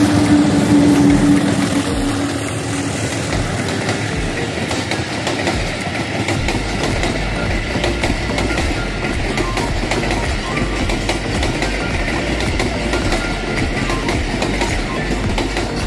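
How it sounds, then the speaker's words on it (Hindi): The Kohat Passenger, hauled by an HBU20 diesel locomotive, rolls past a level crossing in Rawalpindi, a loud, close, continuous rumble of wheels and wagons with rhythmic clatter throughout. "ये कोहाट पैसेंजर इस टाइम आ रही है, HBU20 इसे हॉल कर रहा है, 8034 लोकोमोटिव का नंबर है।"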